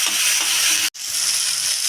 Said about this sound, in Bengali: মশলা দিয়ে ভালো করে ভাজা ভাজা হয়ে গেছে